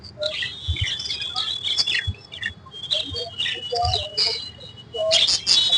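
Several exotic pet birds chirp and tweet at a Kolkata pet market, with bright overlapping calls near and far over a low murmur and occasional thumps.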